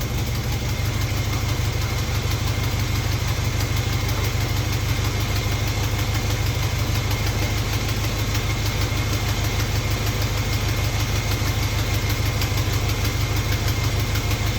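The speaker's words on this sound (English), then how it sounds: "Carb is primed, ignition is on. We're running." A Jeep engine, newly started after the carburetor was primed, idles with a steady loud rumble and an even pulsing beat throughout.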